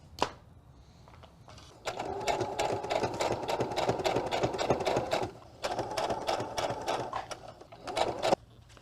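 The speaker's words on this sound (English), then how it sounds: "I'm gonna pin this all the way around to add the top stitch" A sewing machine adds a top stitch around a car trash bag, running in two long steady whirring bursts separated by a brief pause, close and clear with no talking.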